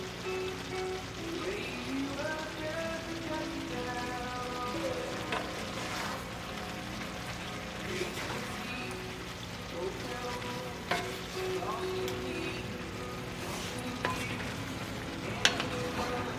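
Beef sizzles steadily in a hot pan of beef and broccoli stir fry, with occasional clicks and scrapes as it is stirred, close and continuous under faint hum in the background.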